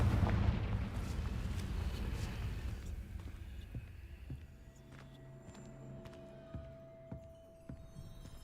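A Confringo explosive spell in Hogwarts Legacy bursts in a loud rumbling blast that slowly decays into a fading tail with scattered small pops and debris.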